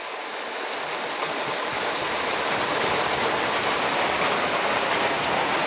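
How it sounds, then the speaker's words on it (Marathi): Heavy rain drums steadily on a roof, a dense constant roar that swells slightly at the start and then holds. "बघा, हा छपरांवरती पडणारा पाऊस."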